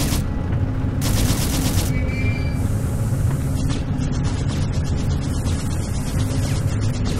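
A machine gun in the video game Syphon Filter: Logan's Shadow fires loud, continuous rapid bursts over a dense rumbling game soundscape, with no talking.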